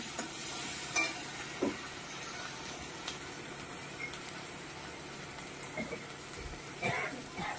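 Food seasoned with salt and turmeric being sautéed in oil, a soft steady sizzle with occasional spoon scrapes and taps against the pan, fairly quiet and close, no voices.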